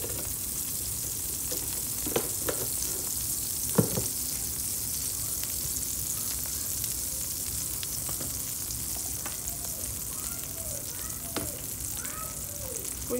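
Food fries in butter and oil in a pan with a steady crackling sizzle, broken by occasional sharp pops and spoon clinks, and faint voices in the background.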